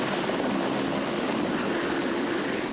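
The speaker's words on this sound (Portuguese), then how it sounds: "O helicóptero da Secretaria de Segurança do Estado foi chamado para fazer um resgate num acidente de trânsito." The Potiguar 1 police helicopter of the state security department sets down in the middle of a road for a traffic-accident rescue, its rotor roar steady, loud and close throughout.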